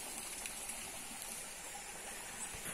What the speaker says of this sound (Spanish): Por este orificio, por esos orificios es que entra el agua.